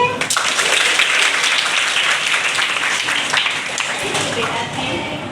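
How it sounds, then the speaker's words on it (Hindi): Schoolgirls clapping together during a school demonstration, a dense burst of applause starting abruptly and carrying steadily near the listener before tapering slightly toward the end, with some voices mixed in. "और आपको एक ताली तो बज सकती है।"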